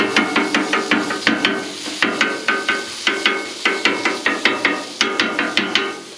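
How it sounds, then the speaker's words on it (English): Rapid metallic scraping and tapping of a spatula chopping sausage on a hot griddle, a steady rhythm of sharp clacks repeated in quick bursts. "take your spatula, cut that sausage up"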